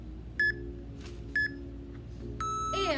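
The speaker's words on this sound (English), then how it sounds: "So, I'll get my timer. We have a 10-second countdown." Workout interval timer giving a countdown: two short, clear electronic beeps about a second apart, then a longer, sustained tone that bends at the end, over a low steady background hum.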